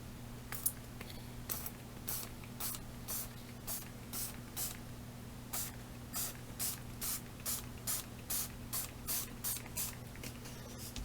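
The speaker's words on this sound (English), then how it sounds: "Let's see if it's going to spray for me." An ink spray bottle fires a long series of short hissing spritzes onto a stencil, sparse at first then quick and regular, close by over a low electrical hum.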